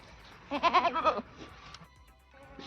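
A single wavering bleat rings out close by, a short quavering cry from a ewe or her newborn lamb, followed by quiet farmyard sounds.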